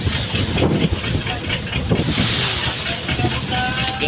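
Strong wind buffeting a microphone aboard a service boat at sea, with rushing gusts and water noise around the hull, steady and close, while someone talks over it.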